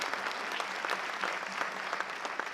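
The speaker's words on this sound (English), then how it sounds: "give a big round of applause for our haumana and the kumuhula and halau that are here tonight to share their hula" An audience applauds hula students, their kumu hula and the hālau after an evening performance, a steady, even patter of many hands at a modest distance.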